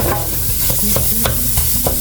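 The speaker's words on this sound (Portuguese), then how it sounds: "Vou fritar a cebola e deixar ela douradinha." Steady hiss of onion frying in a pan with repeated clinks and scrapes as it is stirred, close and fairly loud, no talking.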